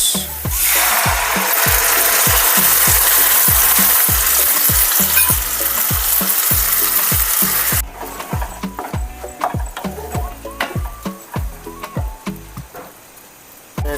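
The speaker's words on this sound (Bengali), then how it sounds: "পেঁয়াজ আদা রসুনগুলো ভাজা ভাজা হয়ে গেছে এবার দিয়ে দেবো এর মধ্যে সস" Onion, ginger, garlic and sauce fry for chilli chicken: a loud hissing sizzle with rhythmic scraping strokes of a spatula, and the sizzle drops sharply partway as the steady stirring continues.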